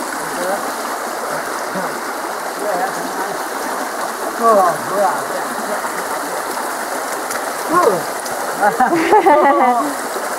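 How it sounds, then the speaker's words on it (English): A stream rushes steadily nearby as it flows out of a small cave entrance at Carreg Cennen, a constant splashing flow, with faint voices briefly audible in the background. "You can just about see where the water is coming out of the entrance of a little cave."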